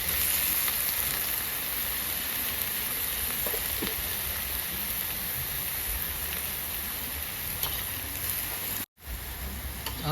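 Loud, steady sizzling and crackling of food stir-frying in a hot pan, continuous throughout with a brief dropout near the end.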